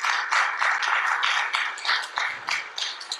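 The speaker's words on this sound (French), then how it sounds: "On peut l'applaudir, s'il vous plaît." Audience applause at a business network celebration evening, a short burst of many hands clapping at close range that gradually thins out.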